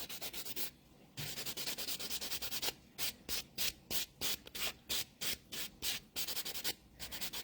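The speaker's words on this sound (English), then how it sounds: "just go in with the buffing block just to get any bits and pieces off, or any colour that you've got left on the nail" Buffing block rubbing leftover dip powder colour off a fingernail, rhythmic close scratchy sanding strokes in quick repeated bursts, quiet and without talk.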